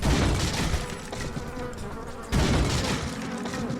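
A swarm of insects buzzes loudly from a beehive that has been shot in the video game Resident Evil 4, a constant droning hum with gunfire-like thuds and a sharp jump in loudness partway through.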